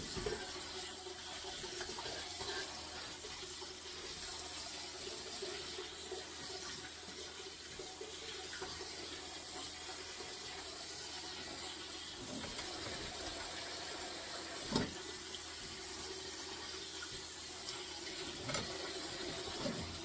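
Steady running water from a kitchen tap as green vegetables for sweet relish are rinsed in a sink, a constant close hiss with occasional small clanks of handling, no talking.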